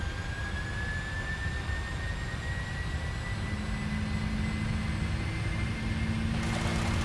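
Boeing 747-400 jet engines spooling up to takeoff thrust in a flight simulator, a steady loud roar with a rising whine that holds throughout, a low drone joining midway.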